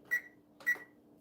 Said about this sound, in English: Oh, I got to turn my oven on too.